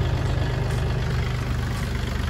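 A Kubota L4018 farm tractor's diesel engine idles close by, a steady low rumble with an even rhythmic throb and no talk.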